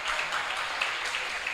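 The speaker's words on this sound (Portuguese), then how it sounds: "Você pode aplaudir ao Senhor." Church congregation clapping for the Lord during a service, a soft, steady wash of applause at a distance with no voices on top.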